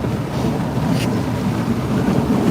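Hurricane Nicole's wind whiffling outside a truck, a loud, constant low roar and rumble buffeting the cab without letup.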